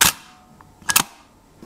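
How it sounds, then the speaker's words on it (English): Shutter release of a Hasselblad 500cm medium format camera, recorded at close range: a crisp initial snap followed by a quick double clack of the mirror and shutter, loud and dry with brief quiet gaps. "And then the sound of a Hasselblad."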